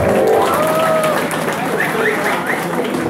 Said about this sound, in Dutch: we gaan eerst een daverend applaus geven aan de band die daarvoor had gespeeld.